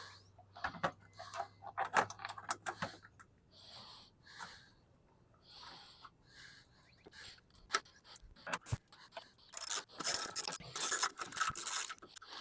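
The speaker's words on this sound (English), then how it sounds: "Now I can stick all three of my bolts back in." A ratchet tightens the bolts on a Jeep Wrangler LED headlight, heard as short bursts of quick clicking separated by quiet pauses. It ends in a louder, denser run of mechanical ratcheting.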